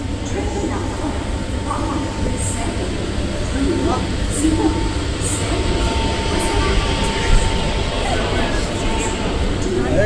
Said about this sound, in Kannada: ಟ್ರೈನ್ ಇದೆ ಗೈಸ್.